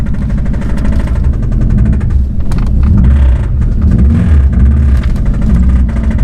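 A car engine runs loud and steady but rough, with an uneven, chugging low rumble throughout and no talking.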